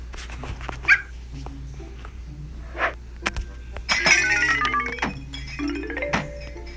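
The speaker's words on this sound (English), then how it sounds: "There's a new dog in the house." In the Dog Simulator video game, a dog whimpers and yips in scattered short bursts, mixed with thunks and other game sounds, fairly close and moderately loud.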